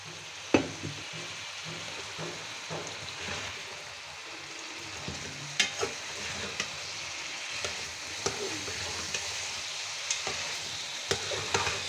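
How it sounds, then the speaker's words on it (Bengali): Bitter gourd, potatoes and green chillies cook in a pan with a hilsa fish head, giving a low hiss as a spatula stirs them, with scattered scraping knocks. The sound is close and moderate, with no voices. "এখন উচ্ছে করলাগুলো দিয়ে দিচ্ছি।"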